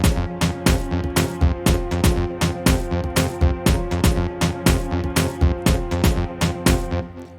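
A punchy Afro tech dance track with steady kick drums, crisp snares and claps in a driving, repetitive groove, played loud and alone.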